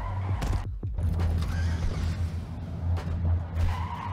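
Truck tires squeal and skid in the ClusterTruck video game, repeated screeches riding over a steady, loud engine drone that runs throughout with no talking.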